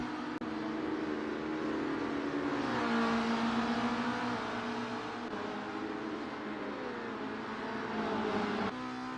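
Touring car engines in a sim racing game, a steady high-revving whine with shifting pitch as the cars hold the throttle through the curves, fairly quiet and continuous with no voices.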